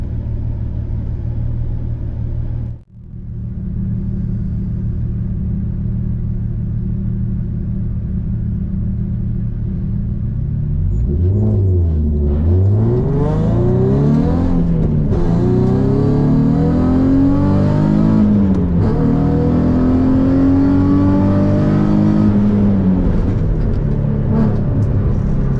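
A Nissan 350Z at a sprint event at Blyton: a steady engine drone, then from about eleven seconds the revs climb and fall repeatedly through gear changes, loud and close throughout.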